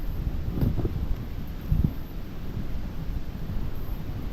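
Cold early-morning wind blows over the microphone while fishing at sea, a steady rumbling rush with a couple of brief louder buffets and no talking.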